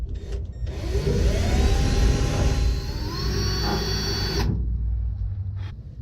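A power tool cuts through a spot weld on a 1970 Plymouth 'Cuda body, giving a loud steady whining grind with a rising pitch that runs for several seconds and then stops abruptly.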